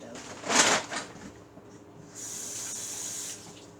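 Tap water runs steadily into a sink for a stamp rinse, a soft continuous hiss of moderate level that follows a brief burst of splashing and handling noise.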